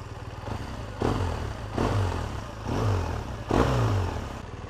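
A 2015 BMW R 1200 R boxer-engine roadster idles, then is revved four times in quick succession, each blip rising sharply and falling back to a lumpy idle, close by with no talking.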